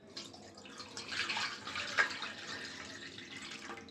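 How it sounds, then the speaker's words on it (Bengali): Milk poured into a large bowl makes a soft, steady splashing stream that swells and fades over a few seconds, close and fairly quiet. "একটা বড় বাটি নিয়েছি। প্রথমেই দুধ দিয়ে দেব।"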